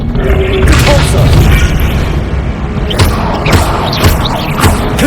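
The Depulso spell cast in Hogwarts Legacy: loud, dense booming blasts and thuds that carry on continuously over rumbling game background, with a faint voice underneath.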